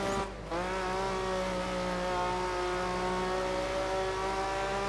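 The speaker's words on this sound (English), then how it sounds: "That is such a nice sounding engine, though, that Mustang." A Ford Mustang engine in the Dirt 3 racing game holds a steady, high, sustained rev with a strong harmonic whine, loud and continuous with no talking.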